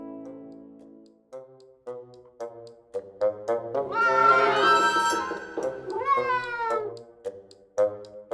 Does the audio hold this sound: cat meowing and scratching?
yes